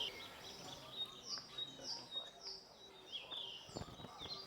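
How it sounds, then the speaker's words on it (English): A male yellow-rumped flycatcher sings near a farmhouse, giving repeated high, thin chirping phrases at a moderate distance over quiet background ambience, with a brief low thump near the end. "a lovely male yellow-rumped flycatcher. That is a gem of a bird. He's singing his little heart out."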